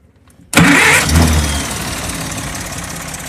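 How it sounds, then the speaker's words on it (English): A car engine cranked directly at the starter after a fuel pump diaphragm repair catches abruptly and fires up loud and close, then settles into a steady idle. "Just crank it right here at the starter."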